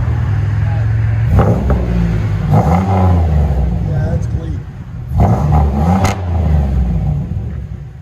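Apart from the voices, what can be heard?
car engine revving with performance exhaust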